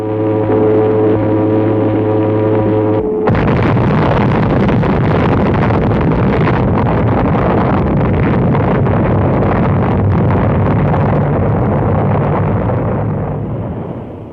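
A loud, sustained roar of an atomic bomb explosion bursts in after a low droning tone, rumbling broadband and steady for about ten seconds before easing slightly at the end.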